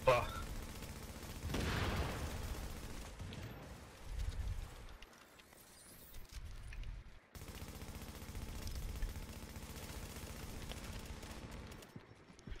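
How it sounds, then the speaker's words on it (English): Gunfire rattles in The Division's Dark Zone, dense bursts most prominent early and then continuing more quietly beneath players talking. "They're shooting."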